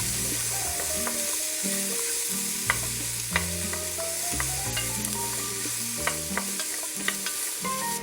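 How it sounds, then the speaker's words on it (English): Chopped onion and garlic sizzle loudly in hot oil in a cooking pot, a constant close frying hiss with occasional utensil clinks, while a steady tonal hum plays underneath. "And that's the noise you have to hear whenever you add onion, garlic."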